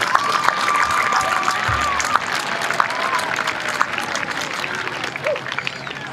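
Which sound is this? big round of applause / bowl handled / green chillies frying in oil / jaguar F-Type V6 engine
big round of applause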